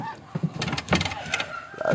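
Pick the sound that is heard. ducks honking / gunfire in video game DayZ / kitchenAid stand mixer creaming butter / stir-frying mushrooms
ducks honking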